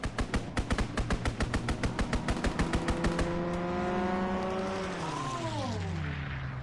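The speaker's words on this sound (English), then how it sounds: "Fighter pilot inbound, strafing the target." Rapid strafing gunfire from a fighter plane in a WW2 video game: a steady, evenly spaced hammering burst for about three seconds, then the aircraft's engine drone roars past, its pitch sliding downward as it flies away.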